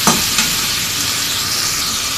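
Onion and garlic paste frying in a pan gives a loud, steady sizzle with light stirring scrapes near the start, and no voices.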